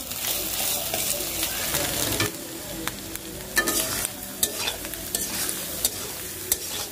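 Egg fried with chili in a pan, stirred steadily: a continuous close sizzle with repeated scraping strokes of the spatula, no talking.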